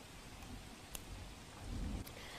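Heavy monsoon rain falls in Upleta, Rajkot, Gujarat, over waterlogged streets. It makes a steady, even hiss of rainfall with a couple of sharp drip-like ticks and a slight swell in intensity near the end.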